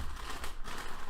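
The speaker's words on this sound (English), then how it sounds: "We have a plastic bag." Plastic bag crinkles briefly as it is unpacked from a Geeetech A30 3D printer box, a soft, close rustle lasting about a second.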